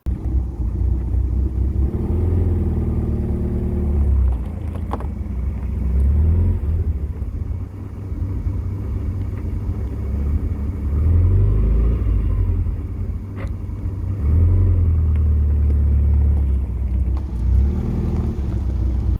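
A Lotus Excel, back running after 17 years stored in a garage, drives off-road with a deep rumbling engine that rises and falls through several revs and gear changes, loud and close throughout.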